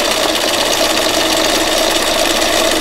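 A sewing machine stitching fabric runs in a steady, unbroken mechanical whir, loud and close, with no pauses or talking over it.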